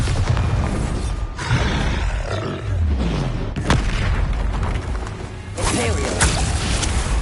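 A Bombarda blasting spell explodes in the Hogwarts Legacy video game, giving loud booming blasts with whooshes and crashes over constant battle noise.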